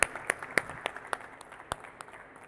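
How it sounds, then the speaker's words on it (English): Sparse, scattered clapping from a small audience at a conference stage, a handful of sharp distinct claps that thin out and fade quickly. "Please applause."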